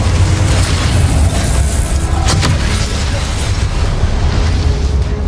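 A Confringo explosive spell goes off in the Hogwarts Legacy video game, a loud booming blast with a deep rumbling body and a sharp crack near the middle, followed by a fading roar.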